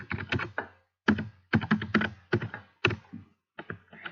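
Typing on a computer keyboard, picked up by a computer's built-in microphone, comes in quick clattering bursts of keystrokes separated by short pauses, close and fairly quiet.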